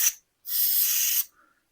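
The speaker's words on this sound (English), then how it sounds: "I'm pushing it out, spraying it from the inside out." Cleaner is sprayed from the inside out through the oil screen of a Beta 390 dirt motorcycle, giving two crisp aerosol hisses: a very short puff, then a longer burst of under a second.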